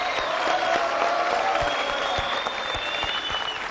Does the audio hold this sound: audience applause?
yes